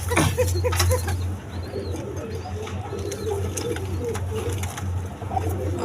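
Basiraj pigeons coo steadily in low, soft, repeated calls at close range, with faint flutters and background chirps mixed in and no voices.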